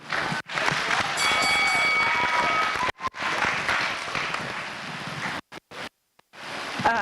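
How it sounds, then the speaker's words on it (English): A crowd applauding, dense clapping that swells and holds, breaks off briefly, resumes, then fades out in scattered claps near the end. "let's give a round of applause to these wonderful change makers as they take their seats."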